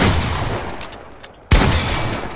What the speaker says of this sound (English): Finally, after like 20 shots I hit them.